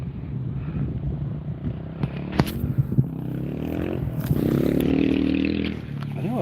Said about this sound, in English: I thought I heard somebody on a motorbike.